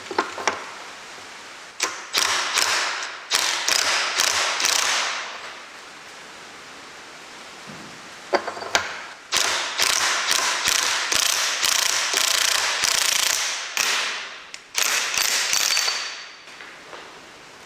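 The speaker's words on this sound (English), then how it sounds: "in seconds, that huge nut was removed" A large, tight nut being undone on a WW1 aircraft V12 engine, likely with a ratcheting tool: repeated bursts of rapid metallic clicking separated by short pauses, close and loud.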